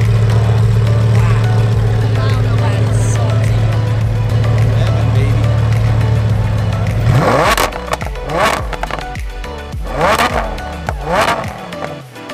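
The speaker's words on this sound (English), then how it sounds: "Look at that exhaust on the titanium exhaust." A loud Lamborghini Huracan with a titanium exhaust idles with a steady drone, then revs sharply several times in quick bursts, close by, with voices mixed in.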